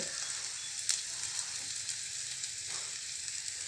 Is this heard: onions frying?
yes